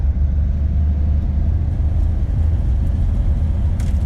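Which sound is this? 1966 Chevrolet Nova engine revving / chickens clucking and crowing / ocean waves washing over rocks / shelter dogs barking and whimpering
1966 Chevrolet Nova engine revving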